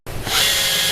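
A Bosch GSB 120 LI 12V cordless drill switched to wood-drilling mode starts abruptly and spins up to a loud, steady, high-pitched motor whine close by, lasting just under a second.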